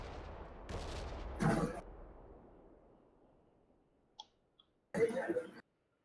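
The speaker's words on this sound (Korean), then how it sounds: "가까워진다 총소리들" Gunfire in PUBG approaching, a few separated shots and bursts, some dull and distant with long echoing tails, then a sharper, louder cluster nearer the end, with quiet gaps between.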